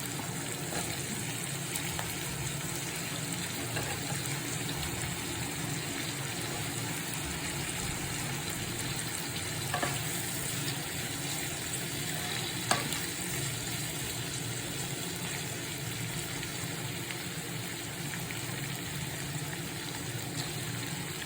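Potatoes frying in a pan for masala dosa filling, a steady low sizzle with faint occasional scrapes and knocks of stirring, evenly sustained throughout.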